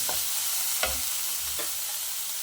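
Tomatoes tipped into onions frying in a pan for millet kichidi, stirred with a few soft clunks over a steady, close sizzle.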